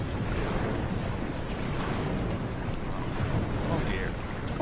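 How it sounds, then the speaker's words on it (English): Ocean waves and water sounds in the VR game The Under Presents: a constant, fairly loud wash of surf and windy noise, steady throughout without distinct breaks. "all of these water sounds and everything are actually getting quite a bit"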